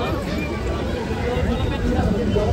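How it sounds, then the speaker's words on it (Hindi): A crowd of tourists on a busy footpath in Nainital in June gives a continuous murmur of babble and footsteps, with a nearby voice talking over it. "तो देख सकते हैं कुछ इस तरीके से भीड़ है फुटपाथ में।"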